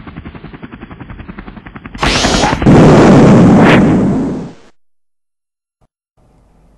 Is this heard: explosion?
yes